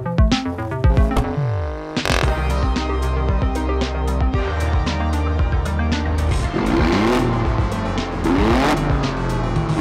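A 2019 Alfa Romeo Stelvio Quadrifoglio SUV drives hard, its engine revving loud and close with rising and falling pitch sweeps, sharp gear-shift cracks and pops punctuating the continuous roar.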